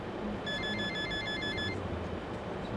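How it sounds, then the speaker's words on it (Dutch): A phone rings loudly aboard a bus in the driving game The Bus, a bright trilling ringtone lasting about a second over the steady low hum of the moving bus. "Waarom heeft iedereen zijn telefoon op knete hard staan in de bus?"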